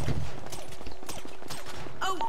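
Rapid bursts of gunfire in GTA role-play crackle in quick succession, fairly close, with a few brief electronic effects near the end.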